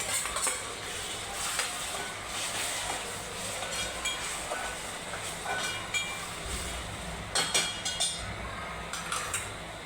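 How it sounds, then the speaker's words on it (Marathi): Onions frying in oil in a pan until brown for a dum biryani, a continuous close sizzle with occasional stirring scrapes and clicks, no voices. "ब्राऊन होईपर्यंत त्याला फ्राय करूया. कांदा बघा आपला छान ब्राऊन झालेला आहे."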